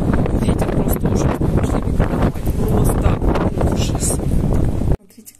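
Steady, roaring wind buffets the microphone with broadband rumble and gusts for about five seconds, then cuts off abruptly to near quiet.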